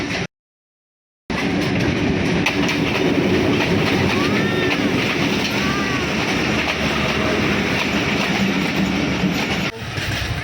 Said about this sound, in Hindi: ट्रेन चल पड़ी है।